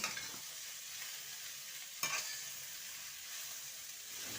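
Bottle gourd pieces fry in a wok with nigella seeds, giving a soft, steady sizzle with a few light scrapes and one sharper clatter midway. The sound is close, fairly quiet and has no voices.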